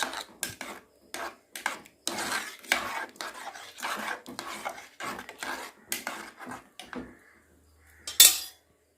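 Spoon scraping and clinking against a metal pot while sago and moong dal payasam is stirred, a run of short close scrapes and taps, with a louder clatter near the end.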